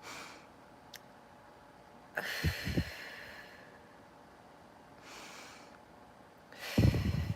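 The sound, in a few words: deep breathing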